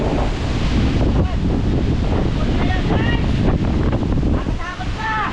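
Strong typhoon Uwan wind buffeting the microphone, a loud continuous roar with gusting rumble and some voices calling out under it.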